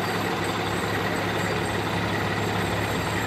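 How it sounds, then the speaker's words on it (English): A fire department ladder truck rolls along in a small-town Christmas parade, its heavy diesel engine giving a steady, loud, close rumble with broadband road and wind noise and no pauses. "thank you to the Wells Fire Department for providing Santa with his ride for the day on the ladder truck"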